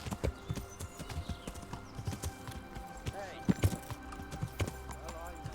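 Horse hooves clip-clopping on a road in the game Kingdom Come: Deliverance, a quiet, steady walking rhythm of distinct hoof strikes, with a brief whinny-like sound midway and game ambience beneath.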